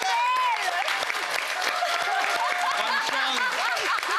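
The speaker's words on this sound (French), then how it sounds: "Ah oui! On applaudit, Isabelle!" A comedy-show audience applauds, a lively round of clapping mixed with chuckles and scattered voices.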